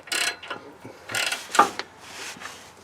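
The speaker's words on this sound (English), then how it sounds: "pretty much torque it as much as I feel comfortable with it on these wrenches." Ratcheting wrench tightening exhaust bolts on a Nissan Titan during a catless B-pipe install, with several short clicking bursts in an uneven rhythm, close and moderately loud.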